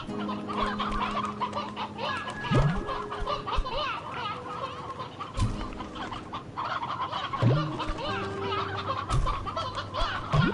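Chickens cluck and squawk steadily in the video game Slime Rancher 2, with several birds overlapping in a busy farmyard din and occasional sliding game tones.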